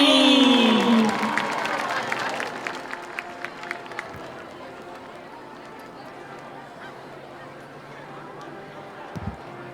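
A football stadium crowd at a high school homecoming cheers and applauds for a nominee, loudest at the start with whoops and horn-like shouts, then thinning into scattered claps under the murmur of the crowd.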